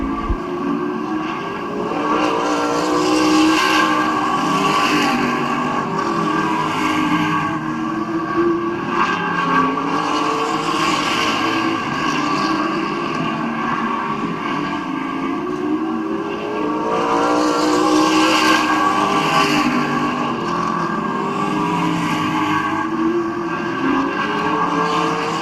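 Race cars at Midvale Speedway, a sustained roar of several engines circling the track, rising and falling as the pack passes, loud and continuous with no talking.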